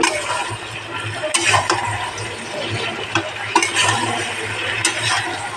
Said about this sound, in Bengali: মাংসটা এই যে একটু কষাই নিয়েছি, এবারে আদা রসুন দিয়ে দিলাম।